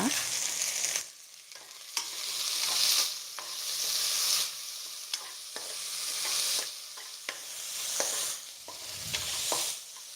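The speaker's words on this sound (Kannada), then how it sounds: "ಒಂದು ಸ್ವಲ್ಪ ಹೊತ್ತು ಈರುಳ್ಳಿ ಬೆಳ್ಳುಳ್ಳಿ ಟೊಮೆಟೊ ಬಾಡಿಸ್ಕೊಂಡ್ರೆ ಸಾಕು ಪೂರ್ತಿ ಏನು ಫ್ರೈ ಆಗೋದು ಬೇಡ" Onion, garlic and tomato sautéing in a pan for a greens sambar, a steady sizzle that swells and dips under repeated scraping stirs of a spoon, with sharp clicks at regular intervals.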